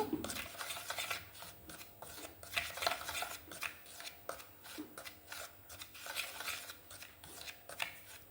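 A paste of wheat and corn flour for a homemade face pack is stirred in a bowl, giving steady, rhythmic scraping and tapping strokes, close and fairly quiet, with no talking.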